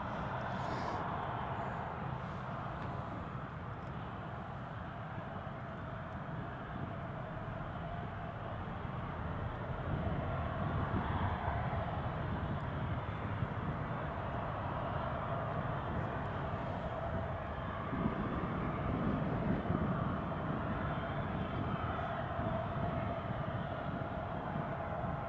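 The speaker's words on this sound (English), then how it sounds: "There goes the KLM, or Eastern Airways as KLM, I should say." An Eastern Airways aircraft flying as KLM passes at Newcastle International Airport, its steady broadband engine roar holding throughout and swelling slightly in the second half, with no talk.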